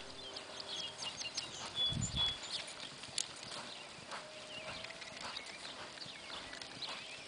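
A sorrel American Quarter Horse mare loping around an arena rail, with soft distant hoofbeats in a loose rhythm, one louder cluster of thuds near the middle, and faint birds in the background.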